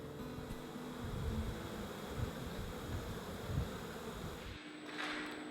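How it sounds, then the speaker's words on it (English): Honey bees buzz steadily around their hive as they return, making a dense, continuous drone close to the microphone with light wind noise, ending in a brief rustle. "The bees will return to their hive without much trouble."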